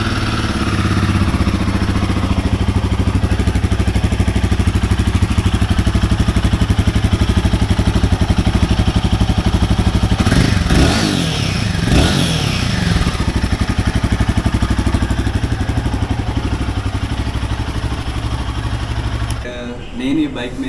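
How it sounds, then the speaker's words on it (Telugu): A Royal Enfield Himalayan 450 motorcycle engine idles up close with a steady, throbbing thrum, then is revved twice in quick bursts around the middle before settling back to idle. "అండ్ ఒకసారి బండి సౌండ్ వినండి."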